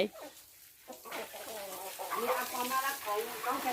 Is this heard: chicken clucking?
yes